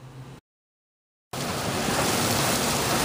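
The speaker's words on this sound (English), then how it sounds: "Just what we need. Lots more rain." Heavy rain pours down in a dense, steady hiss that starts abruptly after a brief silence and fills the scene loudly and continuously.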